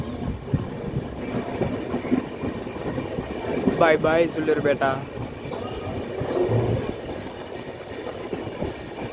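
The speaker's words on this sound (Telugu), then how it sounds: "ట్రైన్ అయితే సుల్లూరుపేట స్టేషన్ నుండి అయితే బయలుదేరిపోయింది." A train pulls out of Sullurpeta station in India, wheels clacking steadily on the rails under continuous carriage rumble, with people talking nearby.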